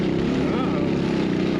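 An 8-horsepower mini jeep drives across an arid, dusty butte landscape, its small engine giving a steady, loud, buzzing drone with a constant rumble and no breaks.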